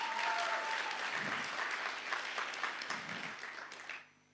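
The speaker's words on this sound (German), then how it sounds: "geef maar een applaus voor die" A church congregation at a special service applauds together, a steady wash of clapping that fades out near the end, with faint low voices underneath.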